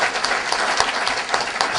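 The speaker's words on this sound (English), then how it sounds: "Let's give a round of applause to Maurice Kane." An audience applauds a speaker at a Pan-African forum in Lagos: continuous dense clapping from a crowd, fairly loud and even, with a few sharper claps standing out.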